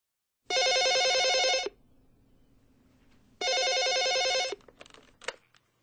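A telephone rings twice in a Korean radio drama reading of a novel, two loud, steady electronic bursts separated by a short quiet pause, followed by faint clicks and clatter as the receiver is picked up.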